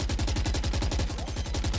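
A rapid, even burst of automatic gunfire sprays in a tactical shooter video game, sharp repeated shots at a fast steady rhythm, loud and close, with no talk.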